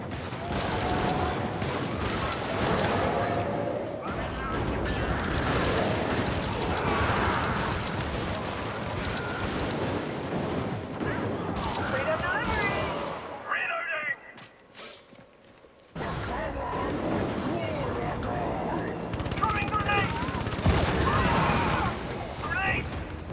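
Sustained gunfire in a video game as players shoot at tanks and hulks, dense and continuous with a brief lull midway before the shooting resumes, with voices talking over it.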